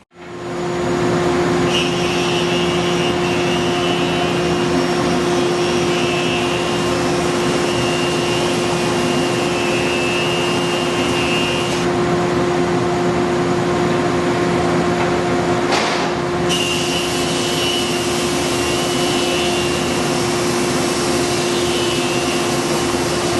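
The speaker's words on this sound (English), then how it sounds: "So let's fire up the dust collector. I'll get my hearing protection on and we'll push this mahogany through." Dust collector running with a Hammer A3-41 jointer/planer feeding mahogany: a loud, steady machine roar fills the whole stretch, with a higher whine from the cut that comes and goes and a brief change in the middle.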